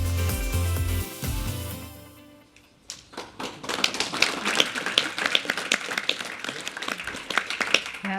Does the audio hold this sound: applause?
yes